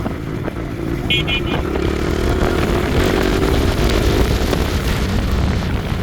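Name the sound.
motorcycle engine running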